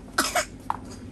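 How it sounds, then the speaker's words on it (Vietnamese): A child coughs nearby during a Halloween trick-or-treat outing: two quick, harsh coughs and then a shorter third one, over quiet background. "Ho chết thiệt."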